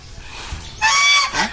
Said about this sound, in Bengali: এখানে রাজহাঁস আছে তিন চারটা মুরগি আছে তিন চারটা পাতি হাঁস আছে